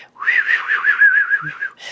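A person whistles a wavering, warbling tune that imitates a bird, steady and close for nearly two seconds, then a brief breathy noise.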